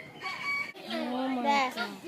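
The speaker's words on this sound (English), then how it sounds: "There's a bird." A bird at a bird park gives a loud, rooster-like crowing call in two stretched, wavering phrases, close by, with faint voices nearby.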